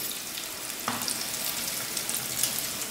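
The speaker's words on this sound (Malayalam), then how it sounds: "ജസ്റ്റ് ഒന്ന് ഫ്രൈ ആയി വന്നാൽ തന്നെ നമുക്കിത് എണ്ണയിൽ നിന്ന് എടുക്കാം." Egg fingers fry in hot oil, a steady close sizzle with a brief clink near the start and no talking.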